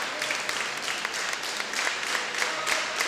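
A crowd applauds steadily at a karate tournament medal match, with dense sustained clapping that fills the whole stretch at a fairly close, even level.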